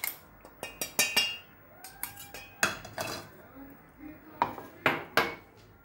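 Home-ground biryani masala is tipped from a grinder jar into a metal bowl in a home kitchen, giving a run of sharp clinks and knocks against dishes and cutlery, scattered over several seconds with a close, bright kitchen sound.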